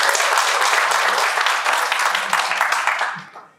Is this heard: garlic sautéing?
no